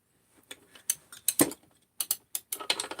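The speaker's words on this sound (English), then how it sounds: "Either some type of ratchet, ratcheting wrench, whatever." A ratchet wrench clicks in short uneven bursts while it works on a Jonsered 630 chainsaw crankcase. The clicks are close and sharp, with brief pauses between the runs.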